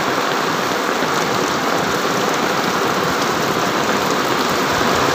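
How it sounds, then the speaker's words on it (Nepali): Heavy rain pours down steadily on a village, a dense, loud, even hiss of drops on surfaces with no voices. No distinct thunder stands out. "पानी पनि एकदम डरलाग्दो पर्दैछ"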